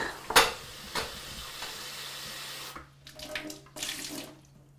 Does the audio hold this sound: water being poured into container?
yes